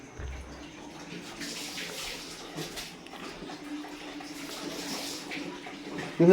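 Water runs into a bath in a soft, continuous splashing rush, fairly faint and steady, swelling slightly louder at the end.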